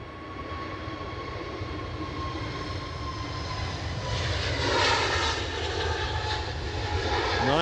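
EasyJet airliner at Edinburgh Airport on its takeoff roll: a steady, loud broadband jet engine roar that swells and grows stronger over the final few seconds, with no talk.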